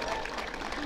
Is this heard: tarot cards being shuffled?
no